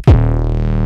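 A Serum synth note sent through a Saturator on analog clip with the gain boosted hard: one loud, dense, buzzing tone that hits with a quick downward swoop and then holds steady and saturated to the end, with no voices.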